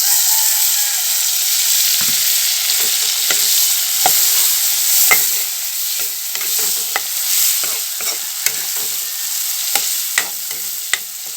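Onions fry in a pan for pasta, a close steady hiss of oil broken by frequent sharp scrapes and taps of a spatula stirring, with no one talking.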